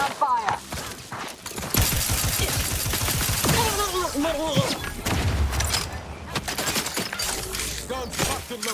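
Gunfire in The Outer Worlds 2 comes as bursts of rapid shots and thuds amid a busy firefight, mixed with clattering impacts and voices speaking during the combat.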